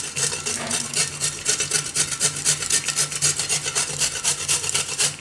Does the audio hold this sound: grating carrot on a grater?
yes